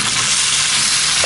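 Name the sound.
bell peppers cooking over a brazier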